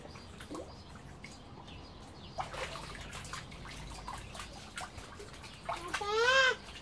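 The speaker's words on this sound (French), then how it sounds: "Je fais des vagues." Soft water sloshing and splashing in bursts as waves are made by hand in a swimming pool, fairly quiet and close, with a brief high squeal of a voice near the end.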